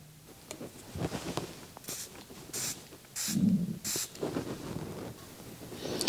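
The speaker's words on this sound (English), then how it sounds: "All right, let's spray some of this and see what we get." Short hissing spritzes from a perfume spray bottle, several in a row, sound close by and fairly soft against a quiet room.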